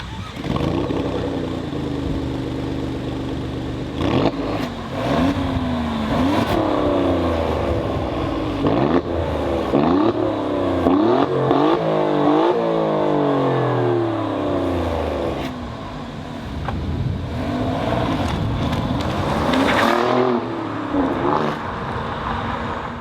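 A 2017 Alfa Romeo Giulia Quadrifoglio with a 2.9-litre V6 drives hard, its loud, close engine revving up again and again with rising whines and sharp breaks at gear changes, and no talk over it.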